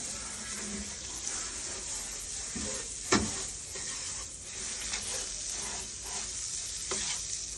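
Butter sizzles in a hot pan as curacha cooking begins in Araceli, Palawan, with a steady, faint frying hiss and a sharp clack near the middle.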